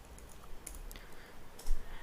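Computer keyboard keys are pressed close by, giving a few sharp clicks and taps spaced irregularly over a quiet background.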